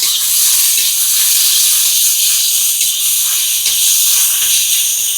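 Prawns sizzle in a very hot kadai: a loud, steady, close hiss runs without break for the whole stretch, with no voices.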